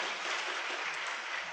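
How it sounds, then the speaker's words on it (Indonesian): Audience applause at an inspirational talk event, a steady dense wash of many hands clapping together, moderately distant and even throughout with no talk over it. "Tepuk tangan buat Bapak Ibu semua."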